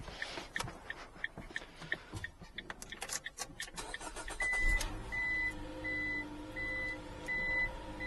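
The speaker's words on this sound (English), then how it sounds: "Let's try to start the car now." A 2021 Dodge ProMaster City van's engine cranks and catches with a short surge, then settles into a low idle while a warning chime beeps in a regular repeating pattern, preceded by clicking and handling noises.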